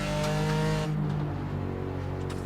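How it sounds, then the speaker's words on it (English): BMW race cars roar hard over the curbs in the Targa Virginia Grand West endurance race, a loud sustained engine drone with a shift in tone partway through. "BMWs can go pretty hard over those curbs."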